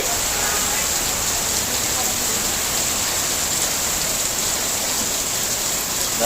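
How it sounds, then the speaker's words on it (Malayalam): A constant, loud wash of heavy rain pours without pause, close and unbroken throughout. "ഇങ്ങനെ മഴ തമർത്തി പെയ്യാണ്."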